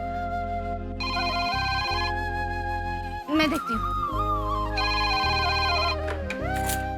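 A mobile phone ringtone plays a loud repeating electronic melody in bursts, and someone speaks briefly in the middle.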